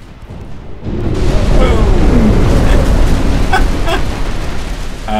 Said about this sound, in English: it's a lot of torpedo hits